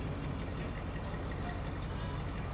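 An everyday daily-driver car engine idles with no exhaust pipes fitted, a steady, loud, rough low rumble with a pulsing throb that runs unbroken from start to finish, with no talking.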